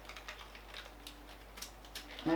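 A knife chops blanched spinach crosswise on a cutting board for a Korean-style spinach side dish: a string of light, soft taps at an irregular pace, fairly quiet, ending in a louder knock.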